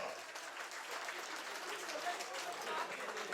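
Steady applause from a crowd at a restaurant anniversary celebration, a dense even patter of clapping lasting throughout, with some voices mixed in.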